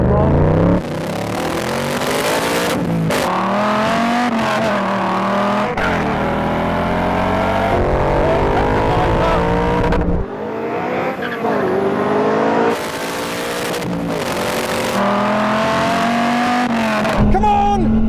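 Ford Mustang and Dodge Viper launching off the line in a drag race, with engines revving hard through rising gear sweeps and tires squealing, loud and close, with a brief cut midway.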